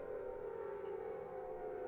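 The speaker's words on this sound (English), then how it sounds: "We always hear this siren whenever we get transported back to the real world." Air-raid-style siren from the Silent Hill video game, a steady droning wail that holds one sustained pitch throughout, with no talking.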